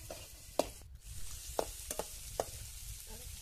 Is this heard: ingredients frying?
yes